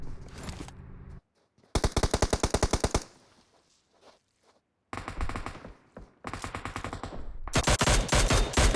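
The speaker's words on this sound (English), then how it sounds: "Shots are going back and forth here" Gunfire in the PUBG Mobile battle royale game, with loud bursts of rapid automatic shots broken by short silences and single cracks, the bursts returning again and again at close range.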